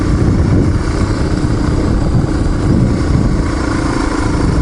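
Motorcycle with a 4-gallon desert tank ridden along a dirt truck trail on BLM land near Dulzura, California, a loud, steady engine drone mixed with heavy wind rush, continuous and close.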